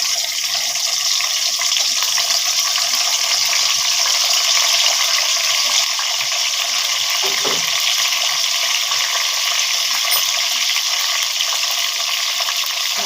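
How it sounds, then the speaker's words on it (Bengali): Whole spices, bay leaf, cardamom, cloves and cinnamon, fry in hot oil as the base for a liver bhuna. A loud, close, continuous crackling sizzle holds steady throughout, with no one speaking. "তেলটা সামান্য একটু গরম হয়ে এলে দিয়ে নিব আমরা গরম মশলা, তেজপাতা, এলাচ, লবঙ্গ"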